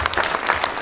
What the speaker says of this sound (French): donc on peut applaudir toute l'équipe, Chocolatine Production